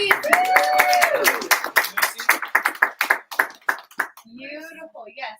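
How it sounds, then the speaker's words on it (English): A small audience gives Marquise a round of applause. Distinct, fairly close claps rise over talk, settle into a sparse run of individual hand claps, then fade as speech resumes. "Big round of applause for Marquise."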